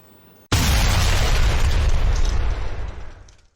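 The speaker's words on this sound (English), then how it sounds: "I just added an explosion at the end." A loud explosion sound effect added to the end of a trailer for the 1991 horror film Witchcraft III: The Kiss of Death bursts suddenly, then rumbles and fades over about three seconds, with no voices.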